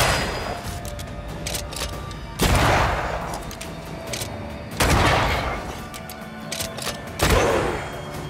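Gunfire in Banishers: Ghosts of New Eden, three loud separate shots spaced a couple of seconds apart, each a sharp blast with a booming tail that rings out before the next.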